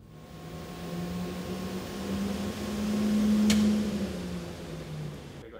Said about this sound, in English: You can hear the heater kick on.